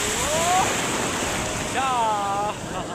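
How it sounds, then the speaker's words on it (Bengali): Sea waves roll onto the beach at Cox's Bazar in a steady, close surf roar with wind, while a voice rises briefly above it. "ঢেউ ঢেউ ঢেউ"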